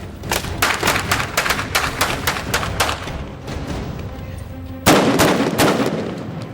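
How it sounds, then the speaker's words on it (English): A prop gun fires on the Terminator Genisys film set, a rapid string of sharp, loud bangs, then a short pause before a heavier, louder burst of several more close shots. "as you shoot and it makes this bang, this loud noise"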